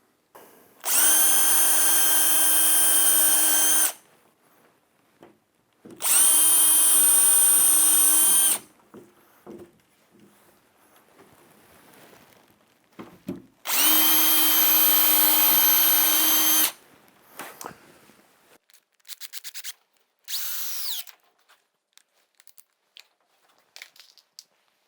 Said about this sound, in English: So let's screw this OSB panel down, make sure it's nice and square